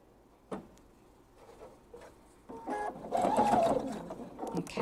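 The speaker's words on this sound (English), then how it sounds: "And now I'm going to stitch the other side down." A sewing machine stitches down the side of a fabric thread catcher, starting with faint clicks and then running in a steady, louder whirring burst.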